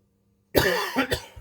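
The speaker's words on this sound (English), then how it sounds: "sorry about that, I've got coughs" A single harsh, close cough bursts out after silence, followed by a couple of rough throat-clearing pulses.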